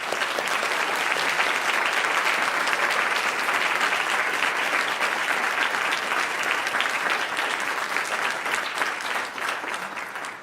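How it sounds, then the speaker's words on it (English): An audience at a North Carolina Principal of the Year event gives a sustained round of dense, even applause that carries on for several seconds and eases slightly at the end. "Let's give them one more round of applause."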